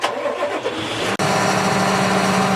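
A tractor engine cranks and catches, then settles into a loud, steady close-up running note right after a brief cutout.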